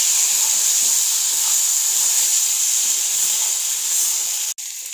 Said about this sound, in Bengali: হলুদ, লবণ হলুদ দিয়ে ভালো করে মশলাটা কষিয়ে নেব।